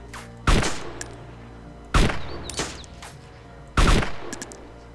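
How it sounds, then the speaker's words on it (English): Three loud gunshots in DayZ, spaced about one and a half seconds apart, each with a short, echoing tail. "They're shooting."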